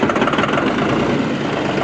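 A tractor engine runs loud and close in high gear at full throttle as it drives forward down a sloped hill, giving a continuous rough, rumbling drone.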